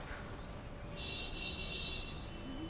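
Baby birds chirp inside a live bird cage, faint high thin calls rising and falling over a soft background hiss, heard from a short distance.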